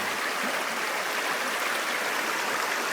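Water runs steadily through a gold prospecting sluice on a solo trip in Ireland, a dense, continuous rushing and splashing at close range with no talk.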